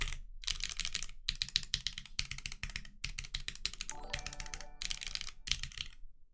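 Mechanical keyboard switches clack in fast, close bursts of typing separated by short pauses. The sound is crisp and nearby with no talking.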